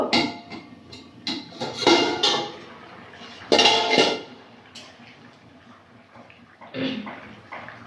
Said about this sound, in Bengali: ঢাকনাটা খুলে নেব